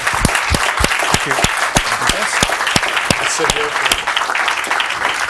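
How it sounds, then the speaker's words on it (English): Audience at a formal policy event on Burma's democratic transition breaks into steady, dense applause, with sharp claps throughout and a brief spoken thanks over it. "Please join me in a round of applause."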